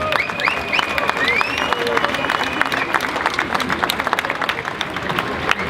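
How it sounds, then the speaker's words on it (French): A festival audience in the street applauds the director and the mayor, with steady, dense clapping mixed with crowd chatter and a few whistles throughout. "Je crois qu'on peut encore l'applaudir"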